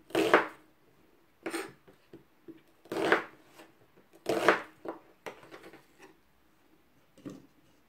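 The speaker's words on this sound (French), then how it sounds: "3 petits oignons, du gingembre et 5 gousses d'ail. Je vais les découper grossièrement." Rough chopping of small onions, ginger and garlic cloves, heard as several separate bursts of knife strokes on a board at an uneven pace, close and fairly quiet, with no talking.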